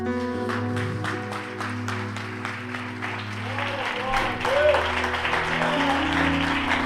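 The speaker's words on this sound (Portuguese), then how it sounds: "Fica de pé nessa noite, aplaude ao Senhor." A church congregation claps during a celebration worship service, the applause blending with sustained music and voices in a large room.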